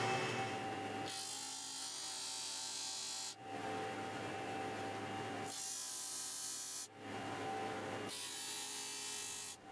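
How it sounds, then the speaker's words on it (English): A disc sander grinds wooden boards for an outdoor lounge chair down to a marked line, in three or four loud sustained passes, each ending as the workpiece is pulled away, leaving the motor's whine running between passes. "Then over at the disc sander, I could clean things up and then sand them down to the line."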